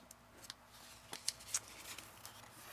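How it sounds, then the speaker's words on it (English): Scissors cutting a tag shape out of a paper printout for a Christmas junk journal craft, several faint, close snips spread unevenly across a quiet room, with no talking. "I think I am going to cut the tag shape on these."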